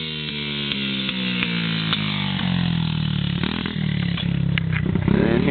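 A dirt bike engine held in first gear and revved hard without shifting, its loud, steady buzzing drone climbing in pitch with a few clanks, close by, no talking.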